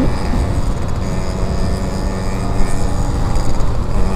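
A Honda Revo FI motorcycle with a 50 oversize bore rides at half throttle around 80 km/h, giving a loud steady engine drone mixed with wind rush that swells slightly toward the end.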